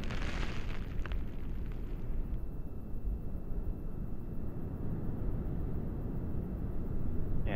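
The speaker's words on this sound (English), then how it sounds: "Burn profile on the solid rocket motors appears to be within family." A Delta IV rocket climbing on its solid rocket motors, about 25 seconds into flight: a continuous, distant, even roar that rumbles steadily throughout without a break.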